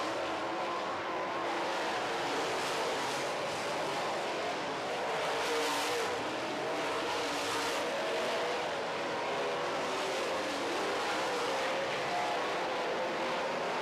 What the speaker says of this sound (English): Ricky Weiss looking silky smooth in the 7W car